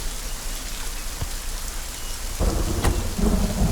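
Steady rain falls heavily, then a deep rumble of thunder rolls in and the downpour grows louder, with a sharp crack near the end.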